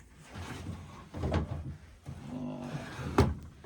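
Drawer of an old wooden dresser sliding open, with two distinct scraping, knocking movements, the second ending in a sharp clunk, close and fairly quiet.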